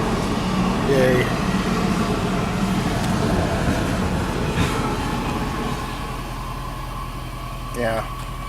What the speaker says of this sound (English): Those are the trains that haul the cars between the north and the south and to the different dealerships